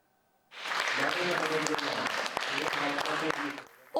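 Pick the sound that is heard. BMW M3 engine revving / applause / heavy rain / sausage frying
applause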